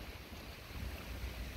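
Sea waves washing against a stone sea wall at night in Acre (Akko), Israel, heard as a steady, dense surf wash with a low rumble of wind buffeting the microphone throughout.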